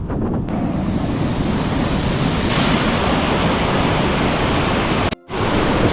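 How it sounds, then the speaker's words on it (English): Josephine Falls near Cairns, Australia, roars as a steady, dense broadband rush of falling water close by, constant and loud with no voices, cutting out briefly near the end. "Heading off to go and see some waterfalls today. So, catching waterfalls, I guess. So this is Josephine Falls."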